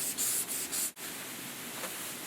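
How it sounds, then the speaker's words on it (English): Sanding block rubbing a board surface in soft, steady strokes, quiet and close, with a short pause midway before the scraping continues. "you can go over it with the sanding block again"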